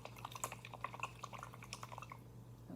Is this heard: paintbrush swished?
yes